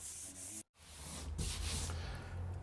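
Dried filler compound being sanded smooth over a small hole repair in a plasterboard wall, a steady close abrasive rasping that stops briefly, then resumes louder and continues without talk.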